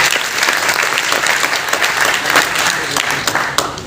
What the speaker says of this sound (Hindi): तो एक बार राजा साहब लोगों के लिए ताली होनी चाहिए।